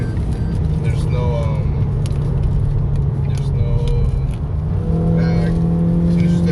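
A car's engine intake roars steadily as it accelerates with a Pedal Commander throttle controller, a loud, dense, continuous drone from inside the car with a slight rise in pitch toward the end.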